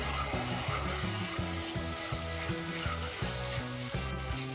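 Tomato paste fries in a pan over ginger-garlic paste while cooking chicken kofta curry, a steady close sizzle running throughout with a low rhythmic background hum.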